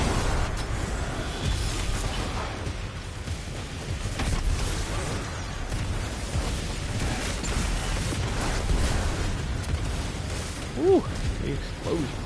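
Destiny 2 explosions from a World on Fire build, heard as a dense, continuous roar of game combat with repeated low booms and bursts and a sharp pop near the end.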